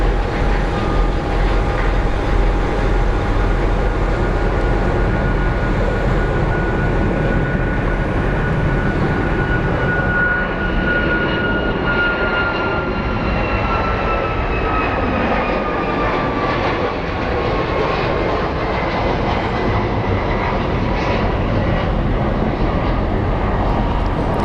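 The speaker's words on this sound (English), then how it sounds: "I believe that is a 737 MAX operated by American Airlines." An American Airlines Boeing 737 MAX jet at a busy airport gives a loud, sustained engine roar with a whining tone that slowly shifts in pitch, heard nearby and without talk.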